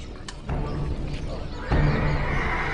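Horses whinny and snort amid a rushing, noisy backdrop in a dramatized Roman invasion of Britain scene, calls swelling in two surges that grow louder and closer near the end, with no speech.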